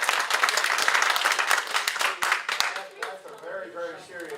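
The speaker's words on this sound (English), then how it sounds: "They're clapping for him." A crowd claps for a man, a dense burst of applause that thins and fades as a voice begins talking over it toward the end.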